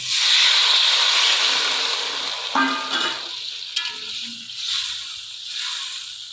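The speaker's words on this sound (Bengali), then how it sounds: "আলু ফুলকপি কষায় মিশিয়ে জল দিয়ে দিলাম" Potato and cauliflower curry hissing loudly in the pan right after water goes in, the sizzle strongest at first and then easing into softer bubbling with a few light utensil clinks.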